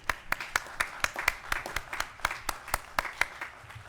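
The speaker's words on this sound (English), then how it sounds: "We need an applause on that" Sparse, rhythmic clapping from a small group at a county commission meeting after a proclamation, distinct individual claps at a steady pace, moderately close and light.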